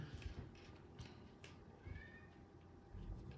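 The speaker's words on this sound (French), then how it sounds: "Il est relou ce chat" A cat meows indoors during a crochet session, giving a couple of faint, short, rising mews over soft handling noises and low room rumble.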